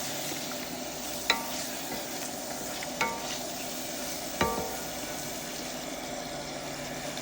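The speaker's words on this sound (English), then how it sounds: "Continue to mix until all of the ingredients go round." Vegetable spaghetti with fresh carrots and green peppers being mixed in a pan, a steady low sizzle running throughout with three sharp clicks of the utensil against the pan spaced a second or so apart.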